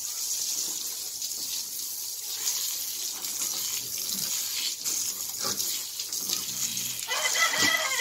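A garden hose runs water in a steady hiss and spatter while washing out an animal's box outdoors, with soft clucking of chickens nearby.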